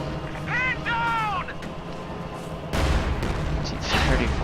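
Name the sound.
ISU self-propelled gun firing in video game Company of Heroes 2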